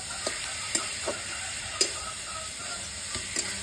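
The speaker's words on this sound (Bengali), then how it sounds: "আলুগুলোকে ভালো করে গ্রেভির সঙ্গে কষে নেবো।" Potatoes sizzle steadily while being stir-fried in oil and gravy, with a constant frying hiss and a few sharp spatula scrapes and clicks against the pan at irregular intervals, close and fairly loud, with no talking.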